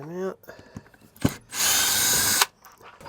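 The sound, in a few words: power drill unscrewing screws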